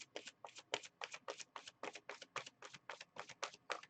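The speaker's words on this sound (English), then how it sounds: "I'm going to shuffle the deck for the romance and clear it up" A tarot card deck is shuffled by hand in rapid, rhythmic riffling bursts, about four per second, crisp and close but quiet, with no voices.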